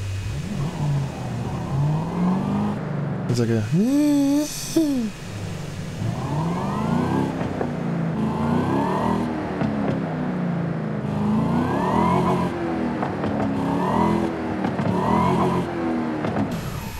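A car engine in the Forza Horizon 5 racing game revs hard and steadily, the pitch sweeping up and down through repeated gear changes, with a brief shrill whine near the start and a voice speaking briefly over it.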